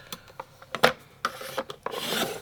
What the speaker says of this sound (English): just go ahead and cut a 4-inch piece of this 6-inch strip